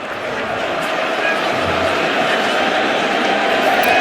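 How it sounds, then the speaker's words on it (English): Steady crowd noise at a cricket test match between England and India, a dense continuous murmur of many spectators filling the ground, heard under commentary talk. "Crowd have been building up throughout the day, haven't they, in terms of the noise levels."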